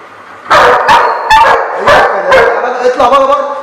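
A four-month-old young dog in attack training lets out a series of sharp, loud barks close by, about six or seven in quick irregular succession, with no talking.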